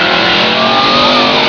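A 1992 Chevy Camaro revs hard at a drag race start line, a loud, sustained roaring engine note holding steady and close without a break.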